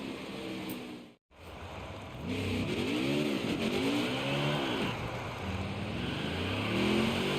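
A race car in the NASCAR Heat 5 video game revs loudly during a burnout, its engine tone rising and falling in repeated sweeping arcs over a steady roar, after a brief drop to silence near the start.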